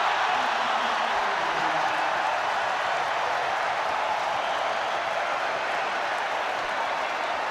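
A rugby league stadium crowd at a New Zealand Warriors versus Wests Tigers NRL match roars and applauds in a steady, dense wash of noise that holds at full level from start to finish.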